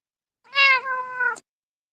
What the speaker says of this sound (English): It's only like a cat.